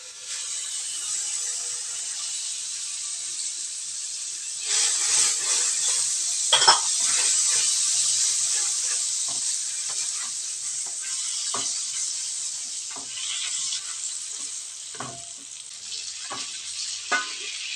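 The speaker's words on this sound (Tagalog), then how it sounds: "Sa mainit na kawali, maglagay lang tayo ng margarine or butter." Margarine or butter melting in a hot pan, a loud steady sizzle that runs throughout, with occasional sharper crackles and pops scattered over the frying hiss.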